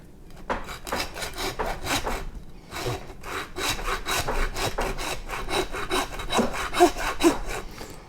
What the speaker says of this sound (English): I'm going to use a hacksaw this time